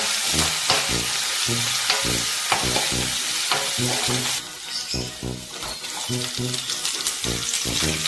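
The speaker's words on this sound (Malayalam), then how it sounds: "അതുപോലെ തന്നെ ഒരു പച്ചമുളകും കൂടി ഇട്ടുകൊടുത്ത് നന്നായിട്ട് തന്നെ മൂപ്പിച്ചെടുക്കുക കേട്ടോ" Curry leaves and a green chili frying in hot oil, with a continuous crackling sizzle under a steady series of rhythmic stirring knocks and scrapes against the pan, close and fairly loud.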